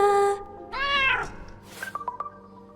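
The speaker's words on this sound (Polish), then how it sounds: "kotka bibliotekarki ma na imię Fortuna" Fortuna, the librarian's cat in the video game Crowns and Pawns, gives a couple of clear, close meows followed by soft chirpy game sounds, with no voices.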